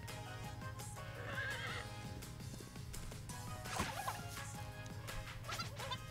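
Cartoonish horse neighs and clattering hoofbeats from the video game Miitopia play over a steady game-music backdrop, with a loud whinny burst near the middle and repeated clip-clop hits throughout.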